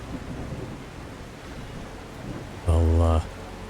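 Thunderstorm in the video game The Last Caretaker: steady rain hiss for most of the clip, then a loud thunder rumble in the last second.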